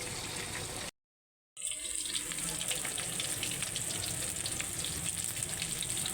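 Fish frying in hot oil in a home kitchen pan, a steady close hiss and crackle that cuts out briefly near the start, then resumes loud and unbroken to the end.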